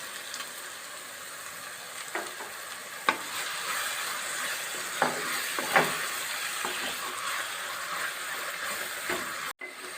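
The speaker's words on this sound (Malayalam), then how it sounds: "ആ പുളി വെള്ളത്തിലിട്ടേക്കുന്ന ആ വെള്ളവും കൂടെ കൂട്ടി ഇതങ്ങ് ഒഴിച്ചു കൊടുക്കാം" Tamarind water is poured into a pan of boiling fish curry paste for kozhuva peera, giving a steady sizzling, bubbling hiss with a few sharp clinks and stirring scrapes, close and moderately loud.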